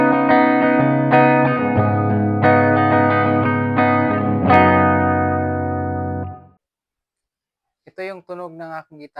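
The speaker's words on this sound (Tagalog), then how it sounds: "Ito yung tunog ng aking gitara na naka-effects, naka-mod." Electric guitar, a 1997 Fernandes JG-65S Jazzmaster-style with sustainer, run through modulation effects: chords strummed repeatedly and ringing loud for about six seconds, then cutting to silence before a brief burst of effected notes returns.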